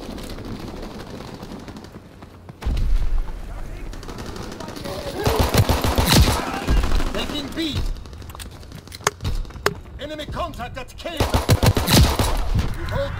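Call of Duty WWII gunfire, with close, loud machine-gun bursts and single shots recurring throughout, mixed with explosions and game sounds while voices speak.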